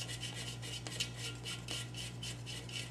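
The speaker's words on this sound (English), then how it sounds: "now I'm going to install my washers and my nuts" ARP main stud kit 202-5402 washers and nuts hand-threaded without lube onto the studs of an SR20DET engine: soft, repeated metallic scraping rasps in a quick rhythm over a steady low hum, close and quiet.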